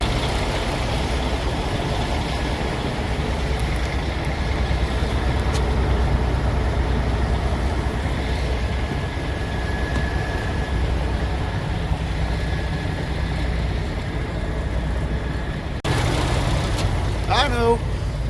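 Large NASCAR hauler trucks idle in a morning lot, a steady low diesel rumble throughout, with a person talking over it and a brief louder shift near the end.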